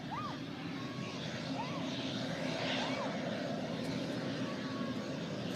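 A fixed-wing airplane passes at Manchester Airport, its engine roar a steady, fairly loud wash throughout, with people talking faintly over it.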